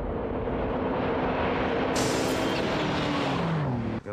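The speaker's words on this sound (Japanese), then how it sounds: "スープラが三速に入ったところでポルシェを引き離しにかかる。" A Toyota Supra and a Porsche accelerate hard side by side in a 0-400 m race, their engines roaring loud and close, with a rising pitch as the cars pull through the gears and a sharp cut near the end.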